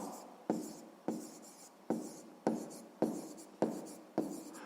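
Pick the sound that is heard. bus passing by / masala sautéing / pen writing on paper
pen writing on paper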